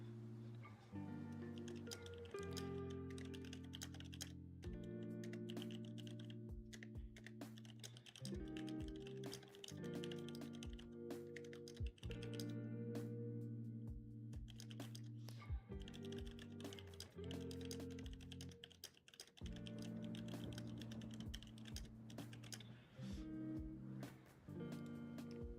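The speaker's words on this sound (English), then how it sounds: "I'm typing out a signal here" Computer keyboard typing clatters continuously over a loud, sustained tonal music bed, the keystrokes partly buried beneath it.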